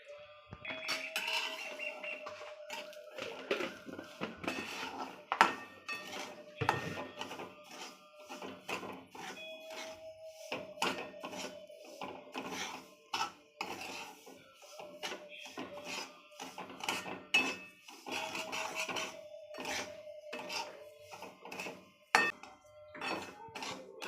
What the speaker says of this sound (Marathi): त्याच्यात ना 1 चमचा तूप टाकून घेऊ रवा भाजायला।